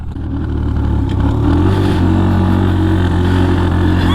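Suzuki GAG 50 motorcycle engine running rough, revving up loud and close, its buzzing note climbing and holding steady as the bike rides along.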